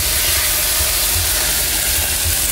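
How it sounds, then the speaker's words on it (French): Water poured into a hot pan of chicken for poulet basquaise throws up a loud, steady hiss of steam that holds evenly from start to finish with a faint low rumble beneath and no voices. "Donc on met de l'eau."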